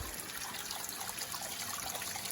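Water in a home-brewing system, an Ss Brewtech setup with an eController, plumes out strongly during recirculation. The sound is a steady, close rushing and splashing trickle with no voices.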